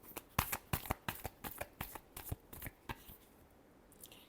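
Tarot cards being shuffled by hand, a quick run of crisp riffling slaps, close and fairly quiet, that tapers off after about three seconds into near silence.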